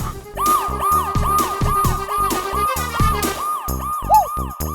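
A police car's siren wails as it arrives, close and loud, with rapid rising-and-falling cycles repeating steadily before a final short yelp.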